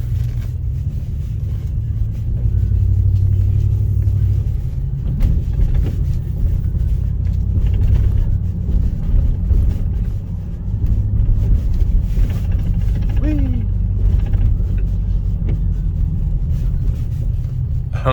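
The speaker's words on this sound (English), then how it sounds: "here comes a very bumpy section of road." A four-wheel-drive vehicle crosses a very bumpy road, with a loud, low cabin rumble and scattered thumps and jolts from the rough surface throughout.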